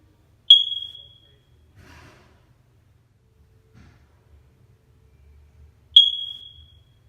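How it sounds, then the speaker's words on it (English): A smoke alarm gives its low-battery chirp: two short, sharp, high electronic chirps about five and a half seconds apart in an otherwise quiet room, with faint handling noise between them. "we'll go ahead and play the chirp sound for you first"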